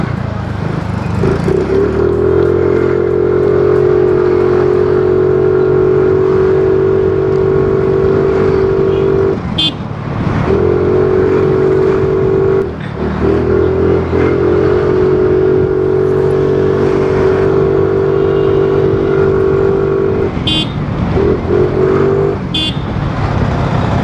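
A Yamaha Ray ZR 125 scooter engine drones steadily while riding, its sustained tone dipping briefly twice as the throttle eases before pulling again, loud and close with wind noise.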